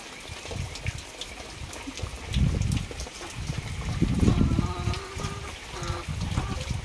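Water trickles from one flooded rice paddy into the next as rain keeps falling during transplanting season in Konkan. It is a steady, fairly soft flow with a couple of fuller gushing surges, and no one speaks.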